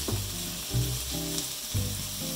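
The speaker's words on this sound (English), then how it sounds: "I'm starting by just sizzling the sliced onions and a little scrap of garlic in a little bit of oil" Sliced onions and a little garlic sizzle steadily in hot oil in a frying pan, with a few louder bursts of crackle as the pan is stirred.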